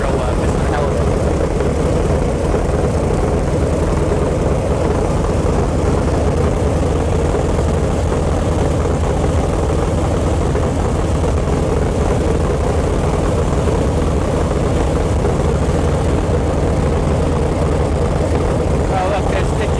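An Onan 884 cubic inch V8 generator engine turned down to a low idle, a loud continuous droning rumble recorded up close, steady throughout with a voice speaking faintly over it.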